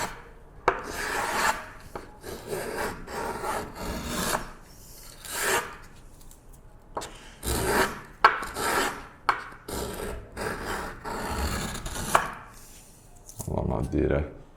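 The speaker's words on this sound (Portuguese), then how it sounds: "Vou usar uma planinha reta, caiu já a sujeira dela aqui, para poder diminuir." A small flat hand plane shaves down a wooden violin bass bar in a luthier's workshop, making repeated rasping strokes of uneven length, close by and fairly loud, with brief pauses between passes.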